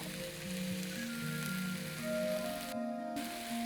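Chopped vegetables for a Chettinad vegetable stir-fry sauté in a pan, giving a steady, soft sizzle with a low hum beneath it and a brief dip partway through.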